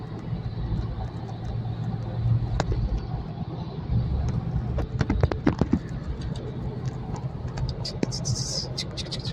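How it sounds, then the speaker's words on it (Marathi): A car drives into a tunnel on a road trip from Mumbai toward a village near Solapur, giving a steady low road and engine rumble with a few sharp clicks and taps throughout, close and continuous. "बोगद्यामध्ये गाडी शिरली."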